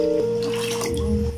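One litre of water pours steadily into a pot, its pitch rising as it fills, with a hum in the background.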